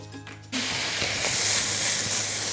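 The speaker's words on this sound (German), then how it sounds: "Einfach nur mit der Seite in die Pfanne und alles richtig schön anbrutzeln." After a brief quiet moment, Serrano-ham-wrapped pork fillet hits a hot frying pan and a loud, steady sizzle erupts and continues with crackling spatters.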